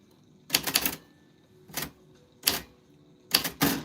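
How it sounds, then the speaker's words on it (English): Typewriter keys typing out a name, struck in five quick clattering bursts with short pauses between them, close and crisp with no voices. "That's what your name sounds like on the typewriter."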